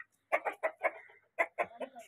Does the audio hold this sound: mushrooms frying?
no